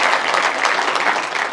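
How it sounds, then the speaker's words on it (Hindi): Audience at a Hindi poetry gathering, a kavi sammelan, breaks into a short burst of dense, loud applause, many hands clapping together with no voices over it. "तालियां बज जाएं"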